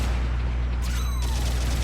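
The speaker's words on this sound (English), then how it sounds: "The thing I love about this beam cannon on its shoulder, it's got 5 shots." Shoulder-mounted beam cannon on a mobile suit in a Gundam video game firing a single loud, sharp energy blast with a brief descending whine, over steady game background noise.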